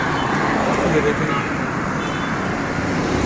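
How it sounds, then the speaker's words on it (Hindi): Steady road traffic on Jail Road in Lahore, a continuous broadband roar of passing vehicles with no distinct horns or engines standing out, fairly loud throughout. "एक साइड से ट्रैफिक आ रही है, दूसरी साइड से ट्रैफिक जा रही है"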